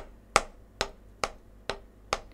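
Five soft, evenly spaced drum taps, light and crisp, each a quick quiet stroke followed by brief silence.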